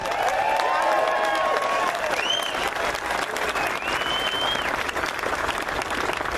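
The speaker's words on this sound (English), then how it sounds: "We want to give a big round of applause for the Boise Police Department for providing security for us today." A crowd at a Second Amendment rally in Idaho claps and cheers steadily, with whoops and shouts rising over a dense wash of applause that holds at full strength throughout.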